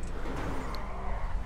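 Porsche sports car in a PlayStation 4 video game, its engine droning steadily at close range with a continuous road-noise hum and no talk over it.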